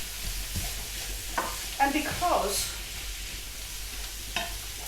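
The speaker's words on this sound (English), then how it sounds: "And you just fry them all up." Food sizzles steadily in a frying pan for a keto lasagna meat sauce, a constant close hiss with a few stirring clatters and a brief spoken word over it.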